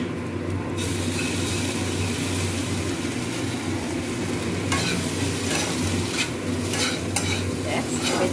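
Chowmein with vegetables and tomato sauce is stirred and fried in a pan. It makes a continuous, loud, close sizzle with scraping stir strokes, and no speech.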